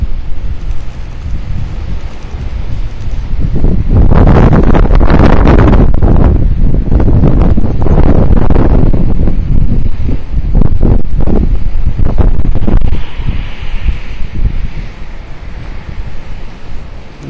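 Gusty wind roars against the microphone with a whooshing, rushing surge that swells and fades, like the blades of an HY Energy Wind Max wind turbine spinning in strong wind.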